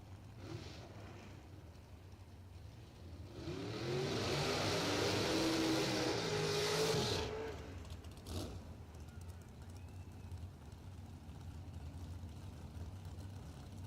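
A bracket drag race car accelerates down the track, a loud engine roar swelling for several seconds, then fading amid the drone of other engines and track noise.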